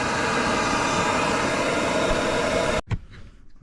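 A loud, steady roaring hiss of a torch flame heating a stuck exhaust stud on a Triumph Spitfire 1500 runs continuously, then cuts off abruptly, leaving a few quiet clanks and rustles.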